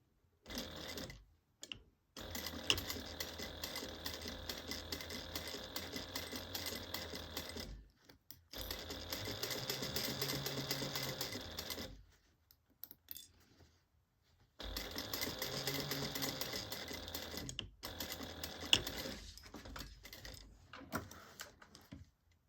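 A sewing machine stitching closed a seam along an opening, running in several long steady stretches of fast mechanical whirring, with short pauses and quiet gaps in between.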